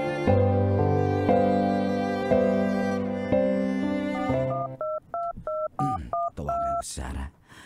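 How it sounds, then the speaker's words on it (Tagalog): A telephone keypad beeps out a rapid run of short dual-tone dialing presses after a sustained musical passage, the tones loud and close. "Tawagan ko si Sarah."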